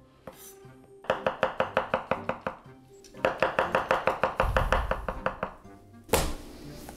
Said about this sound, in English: Now I'll show you how to cut the mushroom really fast.